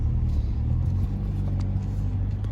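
A Mercedes A45 AMG 4matic drives along the road with a low, steady engine rumble and road roar heard from inside, constant throughout and without clear voices.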